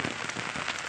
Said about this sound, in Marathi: सकाळपासून पाऊस चालू आहे.